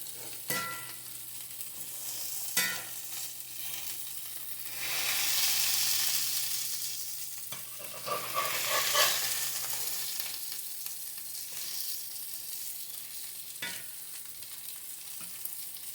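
Salisbury steak patties sizzle steadily in a frying pan after being turned, a continuous close crackle with a few sharp clicks and a brief surge of louder spitting midway, no voices.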